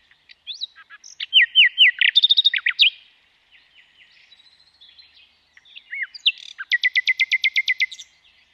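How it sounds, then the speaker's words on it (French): A common nightingale sings alone and close, with varied bursts of whistles, trills and rapid repeated notes separated by short pauses. "un oiseau plus connu, le rossignol philomèle"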